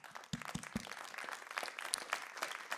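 An audience applauds at a French talk on Yellow Vest independent media, fairly faint scattered clapping that starts with a few sharp claps and settles into a light, continuous patter.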